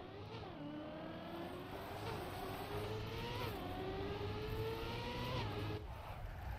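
Car engine in the Trackmania 2020 racing game, a continuous whining drone that climbs in pitch through gear shifts and repeated accelerations, steady and prominent throughout.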